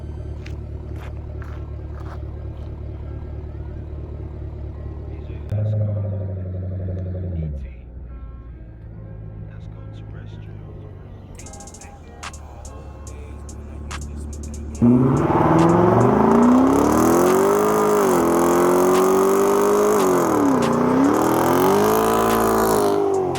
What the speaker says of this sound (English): Give you guys another burnout real quick